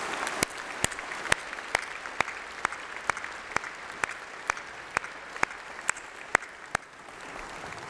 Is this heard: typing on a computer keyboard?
no